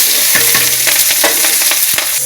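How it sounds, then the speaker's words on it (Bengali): Onions frying in hot oil with dry chilies and cumin, a loud continuous sizzle close up with repeated scraping stirs of a spatula against the pan. "এই যে পেঁয়াজ ভাজা হয়ে গিয়েছে"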